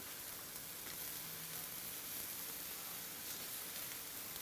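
Banana pancakes frying in a pan just after being flipped give off a steady, soft, even sizzle that continues without a break.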